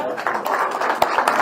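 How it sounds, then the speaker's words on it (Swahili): An audience claps at a document exchange ceremony, with a brief, dense patter of hands and a few sharper individual claps standing out, close and fairly loud. "Let's clap for them."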